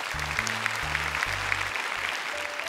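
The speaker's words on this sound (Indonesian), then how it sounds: "Tepuk tangan dong untuk ketiga juri kita." Audience applause at an Indonesian televised Quran memorization competition, steady clapping under a musical bed of low sustained tones.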